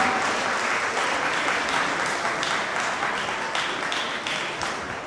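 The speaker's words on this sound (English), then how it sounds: "So give yourselves a round of applause" A gala audience applauds warmly, a dense, sustained wash of many clapping hands that holds steady throughout and eases off slightly toward the end.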